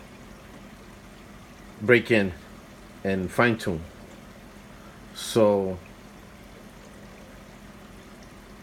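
Water trickles steadily from an aquarium sump beneath a NYOS Quantum 160 protein skimmer, a faint continuous wash sitting under a man's speech.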